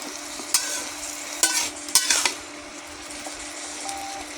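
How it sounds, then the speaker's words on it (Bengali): Potatoes and eggplant fry in hot oil for a spinach curry, with a constant close sizzle and several sharp scrapes and clinks as a spatula stirs them in the pan. "আমি লাল লাল করে ভেজে নেব আলু বেগুন। আমি আবার নেড়ে দিলাম, নেড়ে নেড়ে ভেজে নিচ্ছি।"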